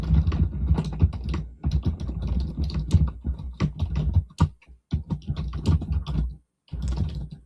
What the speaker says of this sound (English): I know I'm typing with my microphone on.